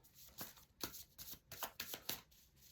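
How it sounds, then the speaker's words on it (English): A deck of cards being riffle-shuffled during a tarot reading, giving several quick crisp bursts of fluttering card noise in a steady rhythm, close and fairly quiet, with no talking. "One more shuffle."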